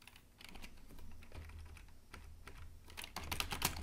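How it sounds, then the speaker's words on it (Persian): Someone types quickly on a computer keyboard, a close, rapid run of soft clicking keystrokes that grows busier toward the end, with no voices. "اینجا تایپش میکنم"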